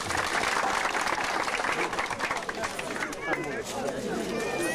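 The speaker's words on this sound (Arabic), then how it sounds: "تصفيقة من الجميع" Audience applause at a ceremony, dense clapping from a crowd that fills the whole stretch, with talk and crowd murmur mixed in.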